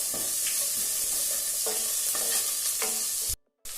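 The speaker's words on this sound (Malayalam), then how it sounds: "ഈ ചെറിയുള്ളി ഇതിലെ വണക്കിയാലും മതി." Shallots sizzling and being stirred in a pan while they sauté for sambar, a steady close frying hiss with a few spoon scrapes, cut off by a short moment of silence near the end.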